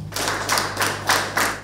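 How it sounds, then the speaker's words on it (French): Applause in a hall for a new doctor in computer security at the University of Abomey-Calavi after his thesis defense; steady close clapping from several people with rhythmic surges, no talking. "Des salves d'applaudissements qui conduisent au port de toge au nouveau docteur"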